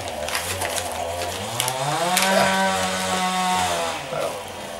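A chainsaw runs somewhere outside, a steady buzzing drone with a rising, wavering pitch through the middle, heard from a distance and alone without talk.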